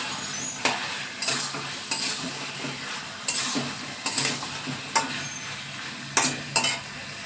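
Chicken coated in cumin paste sautés in a pan for a chicken pulao, with a steady close sizzle broken by repeated scraping stir strokes at an uneven rhythm, and no talking.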